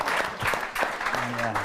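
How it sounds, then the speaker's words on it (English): Brief applause at a horse racing preview event, a scatter of claps mixed with voices talking and a brief vocal tone near the end, moderately faint. "Round of applause."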